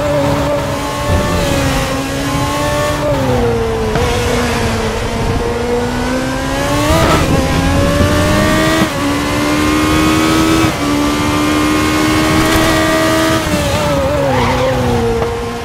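A race car engine in the Raceroom sim-racing game revs hard and steadily, its pitch climbing and dropping sharply at each gear shift through an S-bend, loud and continuous with no talk.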